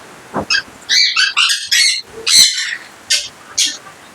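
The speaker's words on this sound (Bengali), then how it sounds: "এটাও কোনুরের মধ্যে অনেক বড় সাইজের পাখি হয়" An adult white-eyed conure parrot, a large conure about three years old, gives a series of harsh, shrill squawks and screeches in bursts, loud and close, in a home exotic bird setup in Belgharia.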